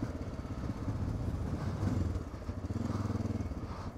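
A Honda motorcycle being ridden, its engine giving a steady, close, continuous low drone that swells slightly and pulses throughout with no talk.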